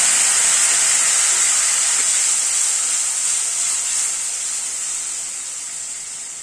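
Warm water hits ground spice paste frying with cracked nigella seeds for a pabda fish curry, setting off a loud, close, continuous steamy hiss that fades gradually over several seconds.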